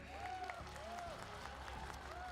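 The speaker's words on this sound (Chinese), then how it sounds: "掌声" An audience at the main Losar (Tibetan New Year) concert in Lhasa claps in a sustained wash of applause, heard over a voice and faint tonal sounds that carry on through it.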